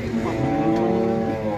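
A female cow with an injured, broken leg lets out a drawn-out, fairly loud moo that holds steady across the short moment.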